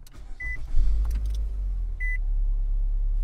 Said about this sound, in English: Okay, vehicle turned on just fine.